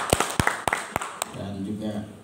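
At a discussion on Madura tobacco in Pamekasan, a handful of sharp, separate hand claps ring out close by, then stop as a voice begins speaking.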